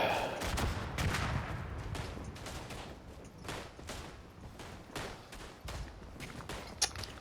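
Rifle shots crack repeatedly across a World War I battlefield in Verdun, a scattered fusillade of sharp reports at varying distances, some near and many fainter, over steady background rumble.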